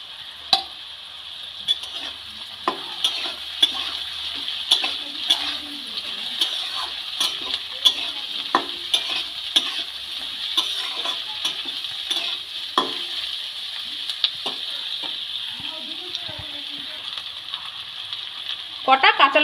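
Onion, green chili and winter vegetables stir-frying in a pan for egg fried rice give a steady close sizzle, punctuated throughout by scraping and clattering stirs of a utensil against the pan.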